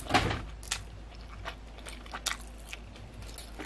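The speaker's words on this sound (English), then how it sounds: "I'm gonna try the little microphone so you guys can hear me chewing" Someone eats a Five Guys burger very close to the microphone. Scattered wet clicks and soft crunchy bites land at irregular intervals over a low room hum, with no talking.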